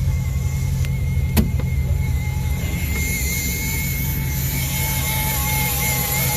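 A 1928 Ford Model A with a fuel-injected engine idles steadily up close, its low throb constant and even, with a couple of brief clicks on top.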